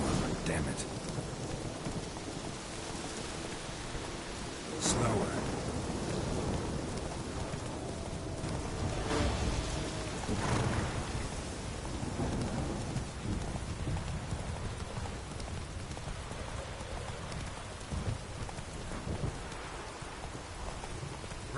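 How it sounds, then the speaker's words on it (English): A thunderstorm in The Witcher 3 video game: steady rain hisses throughout, with several sharp thunder cracks and rumbles and faint hoofbeats beneath, while a voice speaks briefly. "The storm, damn it."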